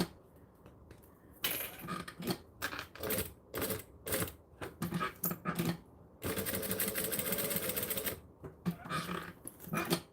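Sewing machine stitching a strap connector, running in short stop-start bursts of rapid mechanical whirring and clatter, with one longer continuous run partway through and quiet pauses between.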